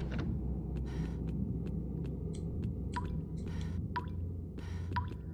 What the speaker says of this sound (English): Sounds making you queasy? It's just water.